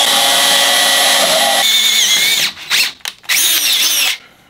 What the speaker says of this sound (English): You gotta be careful drilling stainless, it'll harden.